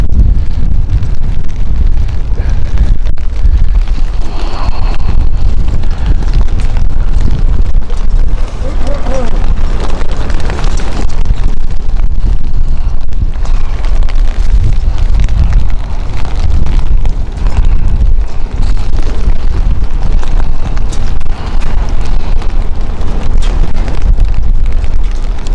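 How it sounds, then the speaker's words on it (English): Strong wind gusts buffet the microphone outdoors at London City Airport, producing a loud, constant low roar and rumble that surges and eases throughout without a break. "Wind is getting up again."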